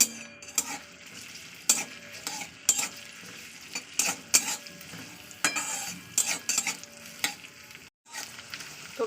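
Chopped onion frying in mustard oil hisses steadily while a utensil scrapes and clinks against the pan in irregular bursts, close and fairly loud, with a brief pause near the end.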